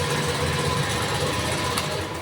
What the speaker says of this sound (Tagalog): Okay na yung makina niyan. On natin, then push start.